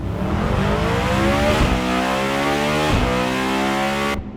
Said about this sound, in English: a brand new hypercar very soon, with a brand new V16 engine